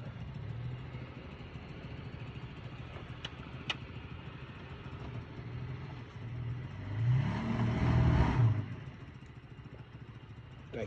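A Case Magnum tractor buried in mud, its engine droning at a low idle and then swelling into a louder revving push for a couple of seconds before settling back, heard from some distance.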